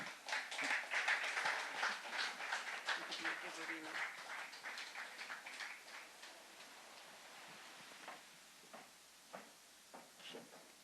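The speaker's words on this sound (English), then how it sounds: "Round of applause." A round of applause at a national culture and arts awards ceremony in Anguilla, a crowd clapping loudly at first, then thinning over several seconds to a few scattered claps near the end.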